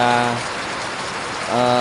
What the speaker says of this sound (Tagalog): Tuloy-tuloy po ang pag-ulan